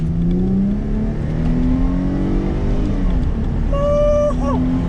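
A V6 Mercedes-Benz car engine drones steadily from inside the cabin while driving, its pitch rising gradually with a brief higher whine near the end.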